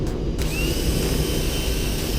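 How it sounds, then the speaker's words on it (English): A drill spinning a wire brush attachment to clean a structural test weld, giving a steady, loud, continuous whirring grind with a faint rising whine partway through. "I also have a wire brush attached to a drill"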